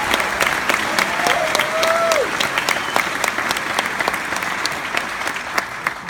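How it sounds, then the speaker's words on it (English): Steady applause from a large crowd at a college commencement, continuous clapping throughout with a brief whistle rising above it partway through. "So a big round of applause for our graduates."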